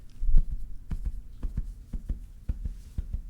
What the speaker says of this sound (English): It's a heartbeat.